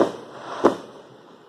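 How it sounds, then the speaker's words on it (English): Fourth of July fireworks going off, two sharp booming blasts a fraction of a second apart, each trailing off into a fading rumble, with no voices. "Not watch the fireworks necessarily, hear them. Because they're like bombs going off."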